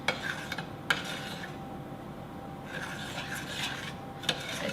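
A mixture is stirred in a saucepan until melted, with soft continuous scraping and rubbing strokes, a few sharper clicks of the utensil against the pan, close and moderately quiet with no talking.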